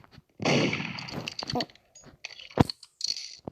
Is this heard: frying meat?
no